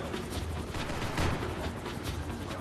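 Dense, continuous gunfire from a shootout in the video game Max Payne 3, with rapid overlapping shots and bursts forming a steady, loud barrage throughout.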